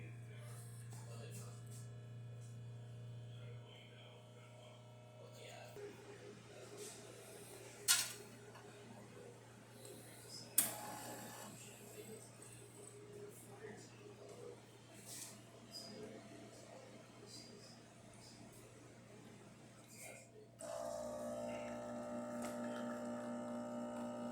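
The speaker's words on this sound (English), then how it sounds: "So let's go ahead and test it and make an espresso shot on it." A Lelit Elizabeth espresso machine, freshly serviced and tuned up, pulls a test shot: a steady low hum runs throughout with a couple of sharp clicks, then a louder buzzing pump tone kicks in near the end.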